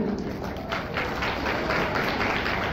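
An audience at a Ganpati celebration applauds in a dense, continuous wash of many hands clapping together, close and fairly loud throughout.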